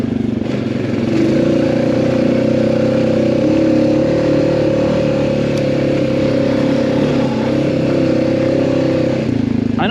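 A vehicle fitted with a K&N air filter runs along a trail in automatic mode, its engine a loud, close, continuous drone with a steady pitch and little variation.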